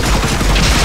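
Loud, rapid gunfire from a shooter video game demo rattles off in a dense, close burst lasting under a second.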